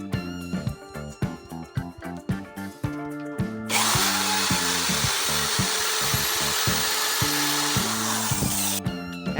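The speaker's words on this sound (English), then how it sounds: "Mark and drill a hole for the screw." A power drill bores a screw hole for a shower rod holder, starting with a few short bursts, then whining steadily for several seconds before stopping, close and loud, with no talking.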